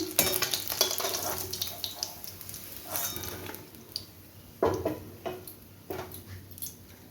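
Fried hilsa fish is lifted out of hot oil, with a soft bubbling sizzle broken by several sharp utensil scrapes and clinks against the pan at an uneven pace.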